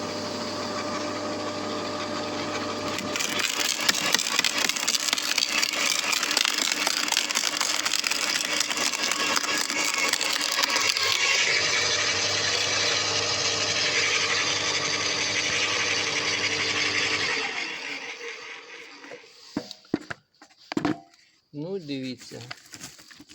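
A Parkside PLH 2800 B2 milling branch shredder chews through a 35–40 mm thick wooden branch, a loud continuous grinding and splintering roar that runs steadily before cutting off near the end, followed by a few scattered knocks.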